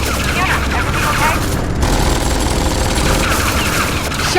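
Turrets in the Tales from the Borderlands video game fire sustained gunfire, a loud dense barrage of rapid shots with booms, continuous and close.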